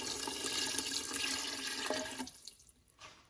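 Chicken bouillon broth pours steadily into a pot while making Cajun dirty rice, a continuous liquid splashing and trickling that stops abruptly near the end, leaving faint drips.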